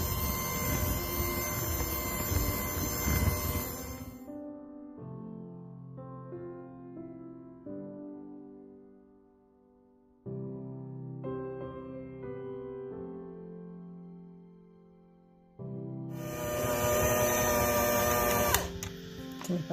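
An electric mixer creams cake batter with heavy cream, a loud, close whirring at the start that gives way to music before the mixer returns near the end.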